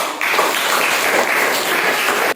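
Classroom applause for a student group: a brief, steady burst of many hands clapping together, close and fairly loud, cut off abruptly.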